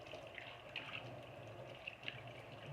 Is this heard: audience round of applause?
no